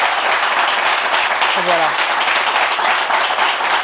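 A television studio audience applauds a guest's arrival with steady, dense clapping throughout, while a brief voice speaks over it.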